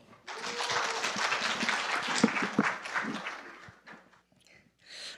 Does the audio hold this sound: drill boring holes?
no